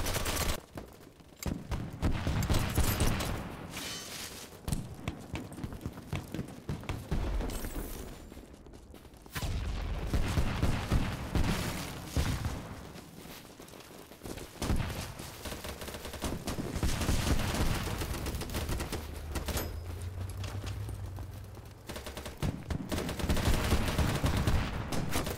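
Bursts of gunfire in the BattleBit video game at a night map, coming in repeated loud volleys and rapid strings of shots over several seconds, with short lulls between the exchanges.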